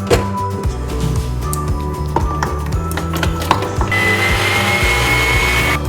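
Electric whisk whipping cream in a bowl: a steady, loud mechanical whir with a rattling rhythmic beat, continuous throughout and growing brighter near the end.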